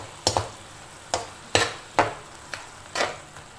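A utensil stirs batchoy ingredients with vinegar in a frying pan, making a handful of scraping, clattering strokes at an uneven rhythm over a soft sizzle, close by and alone.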